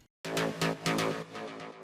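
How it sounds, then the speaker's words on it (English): Melodic techno synth stabs designed in Serum hit in a bright, sustained chordal pattern after a brief silence, with several rhythmic pulses under a steady wash and no talking. "How to make melodic techno stabs that sound like this."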